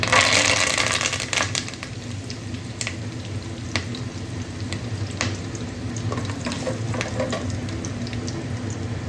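Bay leaf and curry leaves frying in hot oil for country chicken rasam, a loud crackling burst at first that settles into a steady sizzle with scattered pops and spatters.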